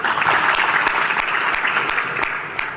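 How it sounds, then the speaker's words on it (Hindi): A crowd at a community gathering celebrating a dharamshala claps together in steady, dense applause, loud and continuous throughout, easing slightly near the end. "ताली बजाती"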